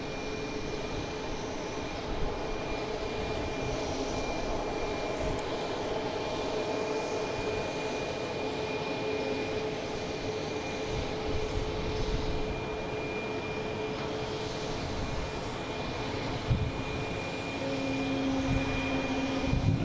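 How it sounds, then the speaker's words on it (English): A Delta Embraer E175 jet arriving at Boston Logan from Newark, heard as a steady, fairly distant engine roar with a faint whine, holding a constant level for the whole stretch without any talk. "We got a Delta coming in from Newark,"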